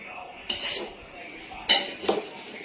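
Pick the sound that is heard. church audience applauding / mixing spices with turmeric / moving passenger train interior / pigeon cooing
mixing spices with turmeric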